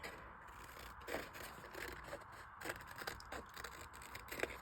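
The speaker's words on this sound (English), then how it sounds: "simply take my scissors and finish the line" Scissors snip through paper card, a run of close, faint crisp cuts and scraping slices in an uneven rhythm, quiet and alone without talking.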